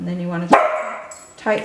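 A single sharp dog bark cuts in close by, right under a man's calm spoken instructions.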